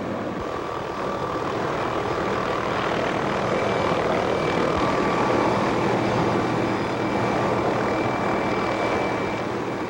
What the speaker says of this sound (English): Helicopter pilot Larry Hallis maneuvers the chopper closer.